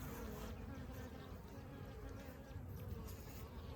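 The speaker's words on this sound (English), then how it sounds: "the bees are all clustered right here" Honey bees clustered under a removed inner cover of a hive produce a steady, close, dense buzzing hum that stays even throughout, with no speech over it.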